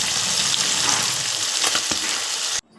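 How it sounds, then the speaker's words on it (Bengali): Morola fish frying in a pan as a curry with potatoes is prepared, a steady loud sizzle running almost unbroken with faint stirring clicks, then cutting off abruptly near the end. "এই যে এই মাছগুলো আবার ভাজলাম"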